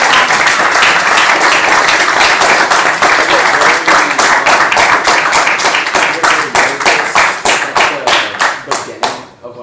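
Audience applause at a trumpet clinic, loud and close, with brisk steady clapping that starts already full and then thins into scattered claps before dying away near the end, with no other sound over it.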